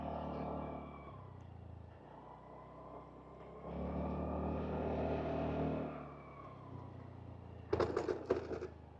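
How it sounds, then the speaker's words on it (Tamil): A 2025 Honda Dio 125 scooter moving off on a rough road, its small engine humming low and rising briefly in a rev. Some rattling clatter comes near the end. "ஸோ வண்டியை மூவ் பண்ணிடலாங்களா."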